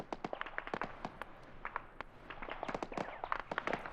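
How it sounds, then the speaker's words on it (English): Scattered distant rifle shots and short machine gun bursts in an Arma 3 Falklands War battle against Argentine paratroopers, sharp faint cracks repeating irregularly throughout at a quiet, far-off level. "long-range rifle and machine gun engagement currently"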